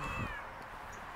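A single short meow from a cat outdoors at a park, fairly faint against a steady background wash of surging water.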